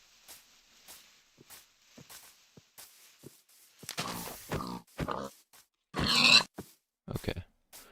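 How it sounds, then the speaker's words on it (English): Pig grunting in Minecraft, a series of short, low snorting grunts spaced across the stretch, growing louder toward the end with a sharp burst near the close. "I'll kill this pig and that'll be it for food."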